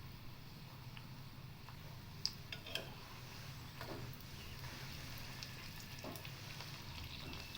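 Frozen puri deep-fry in hot oil, giving a quiet, steady sizzle scattered with faint pops and crackles that continue without any voices.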